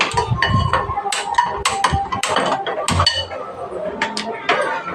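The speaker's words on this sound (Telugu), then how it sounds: "ఫస్ట్ ఒక గిన్నె పెట్టుకొని స్టవ్ ఆన్ చేసుకోవాలి" A cooking pot is set down on a stove at the start of making katte pongal. It gives sharp metallic clanks and clinks close by, mixed with a person talking throughout.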